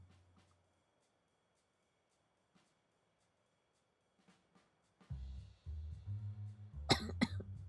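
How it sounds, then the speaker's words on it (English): After a long quiet stretch, a person coughs close to the microphone in a few rough bursts, ending in a couple of louder, harsher hacks. "My cough is still here a bit"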